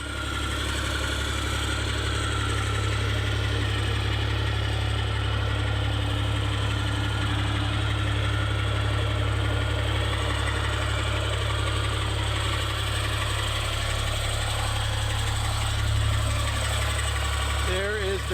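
A 6BT Cummins diesel in a Ford F250 idles loud and steady right up close, its rumble constant and unbroken throughout, with no voices over it.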